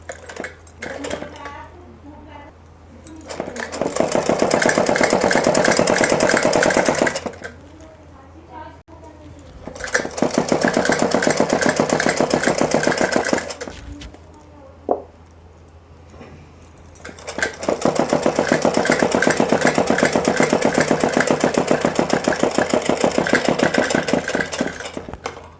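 An electric sewing machine runs a long straight seam along a 3-inch folded fabric hem, in three sustained rattling bursts separated by pauses, with a voice speaking in the gaps.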